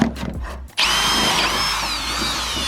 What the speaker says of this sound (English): I'm hitting the overload on my drill.